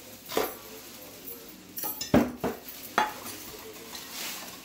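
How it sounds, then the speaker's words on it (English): A spoon scrapes and stirs along the bottom of a pot of boiling comfort food, giving a few distinct clinks and scrapes in uneven bursts at close range, with a faint sizzle under them and no talk. "Once it comes to a boil, you need to keep stirring."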